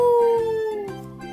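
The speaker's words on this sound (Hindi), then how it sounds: "और ऐसा बोलकर उसने चिल्लाना स्टार्ट कर दिया।" A jackal howls in a long, loud wail that slowly falls in pitch, then breaks into a shorter, lower cry near the end, clear and alone.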